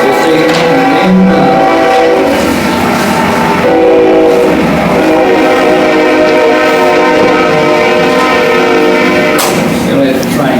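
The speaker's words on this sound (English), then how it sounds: "We'll let the train get by for a second." A train rolls past close to a city council meeting room in Alexander City, a loud continuous rumble with a blaring horn throughout and rattling wagons, drowning out the room for about ten seconds.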